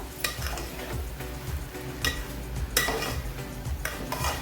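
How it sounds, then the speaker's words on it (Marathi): Sheera roasting in a pan after cardamom powder goes in: steady rhythmic scraping and clinking of a spoon against the pan over a low continuous sizzle, close and moderately loud. "वेलची पावडर टाकल्याच्या नंतर दोन तीन मिनटं परतवेपर्यंत घ्यात चालूच ठेवूया"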